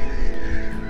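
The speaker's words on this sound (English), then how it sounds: "an Egyptian goose" An Egyptian goose on the water by a small island gives a short, harsh honk. The call is heard at moderate distance over steady outdoor background noise.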